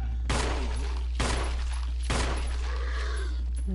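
Three sharp gunshots fired at zombies in the video game Resident Evil, evenly spaced loud blasts over a constant low hum, with no talking.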